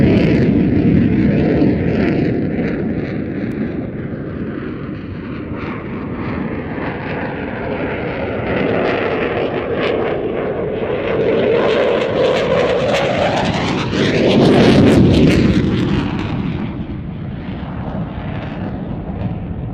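A jet display aircraft roars past with afterburners lit, a loud, sustained rumbling thunder that swells, shifts in pitch as it passes overhead around the middle, and recedes.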